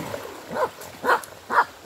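Two dogs in a home bathtub of water make three short, close splashing bursts spaced roughly half a second apart over a low background wash.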